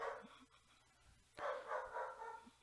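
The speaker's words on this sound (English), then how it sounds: "Let me go deal with the dog." A dog barks indoors in a quiet room, two short bursts of barking separated by a pause, faint and somewhat distant.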